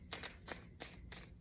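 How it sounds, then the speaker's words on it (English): Soft, repeated riffling of a tarot card deck being shuffled, four quick bursts in a steady rhythm, close and quiet. "let me just shuffle."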